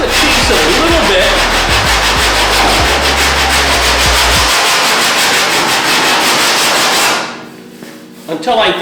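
Hand file rasping back and forth over a dented metal panel, loud and close with steady strokes, stopping near the end where a brief clatter follows.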